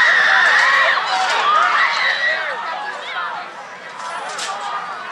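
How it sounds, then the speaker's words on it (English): A large crowd at an outdoor Trump political rally screams and shrieks in panic right after gunshots, with many loud piercing voices overlapping in a frantic, continuous wall of sound. "and the piercing screams."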